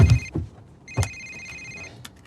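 A telephone rings unanswered in a tense thriller scene, two distinct electronic ring bursts separated by a short gap, with a few thumps around them.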